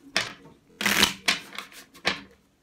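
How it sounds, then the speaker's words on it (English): Tarot cards shuffled in quick bursts, four or five crisp riffling flutters separated by short pauses, close up and alone with no speech. "3 more shuffle"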